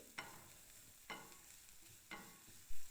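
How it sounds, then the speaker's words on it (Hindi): Chopped garlic and onion fry in hot oil for pasta, a soft steady sizzle broken by three regular spatula scrapes about a second apart and a thud at the end, close with no talking. "ऑयल पोर करने के बाद मैंने इसको थोड़ा सा हीट अप किया है और इसमें ऐड कर लिया है चॉप्ड गार्लिक।"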